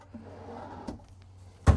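A solid wood pantry drawer in a 2019 Forest River Georgetown 31R5 travel trailer shuts with a single short knock near the end, after quiet room tone.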